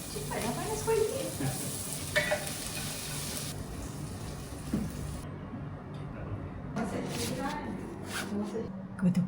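Food frying and sizzling in a hot wok in a home kitchen, a steady crackling hiss with occasional stirring scrapes and clatter.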